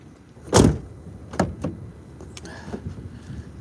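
A car door opens with a sharp thud and clunk as someone climbs out of a car in wet weather, followed by a few softer knocks and shuffles, close and fairly loud.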